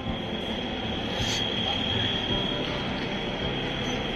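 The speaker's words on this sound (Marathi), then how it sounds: "हो, कोणती ट्रेन आहे" A train rumbles steadily nearby at Pune railway station, with a thin high metallic squeal running through most of the sound and a continuous low roar underneath.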